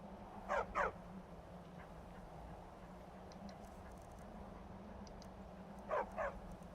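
A hound dog barking in a video game, two quick pairs of barks several seconds apart over a low steady background hum, fairly near and moderate in volume.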